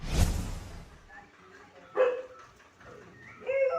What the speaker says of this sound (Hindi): हाँ, कुत्तों का कोई भरोसा नहीं है।